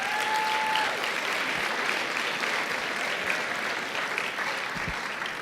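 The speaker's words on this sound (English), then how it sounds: "A round of applause for that." Audience applause at a book launch event, a steady wash of clapping from a crowd that holds evenly for about five seconds and tapers only slightly near the end.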